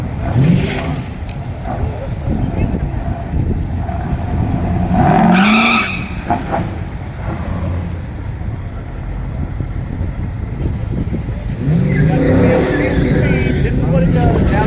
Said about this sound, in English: 74 Super Duty 455 Trans Am, fixing to go for time trial number 2.